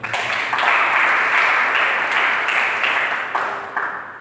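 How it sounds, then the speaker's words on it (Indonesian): Congregation applauding during a Sunday worship service at GBI Harmony church in Rantauprapat, a dense steady wash of many hands clapping that carries evenly through the whole stretch. "Berikan tepuk tangan."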